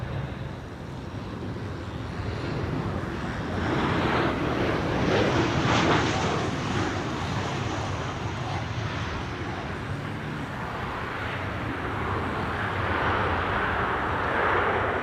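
Transavia airliner arriving at Amsterdam Schiphol from Salzburg, a steady jet roar that swells toward the middle as it passes nearby, then eases into a lingering rumble with some wind buffeting.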